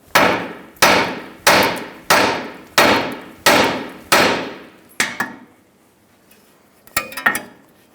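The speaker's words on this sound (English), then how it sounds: "Hit the side of the knuckle near the tie rod end with a hammer." Hammer striking the side of a Toyota Camry steering knuckle near the tie rod end, seven sharp metallic blows at an even pace, close and loud, followed by a few lighter knocks and clinks.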